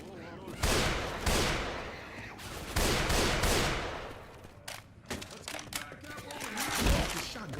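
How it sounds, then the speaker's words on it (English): Gunfire in a shooter video game, several loud close bursts of shots in quick succession with rattling echoes between them, continuing throughout. "That's a shotgun."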